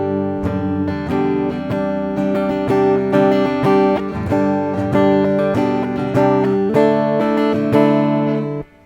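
Clean electric guitar run through a digital effect set to Jazz Chorus, playing a steady sequence of strummed and picked chords with shimmering sustain, close and loud, no talking, ending cleanly.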